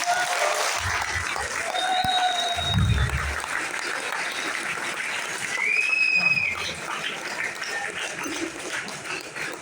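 Audience applause during an indoor talk, a steady wash of clapping throughout with faint tonal electronic blips and a brief low thump in the background.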